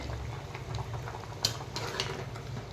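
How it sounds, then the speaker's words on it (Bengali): Jackfruit curry simmers and cooks in a pan, with a soft continuous bubbling hiss, light stirring scrapes and a few small clicks up close, with no one talking. "এটা ভালো করে সেদ্ধ হতে দেখুন থাক এরকম চলো বন্ধুরা দেখো প্রায় সেদ্ধ হয়ে আসছে"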